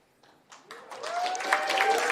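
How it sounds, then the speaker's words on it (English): An audience at an investment summit finale breaks into applause and cheers, starting thin and swelling into steady, full clapping that fills the room. "help us out by cheering on the presenters"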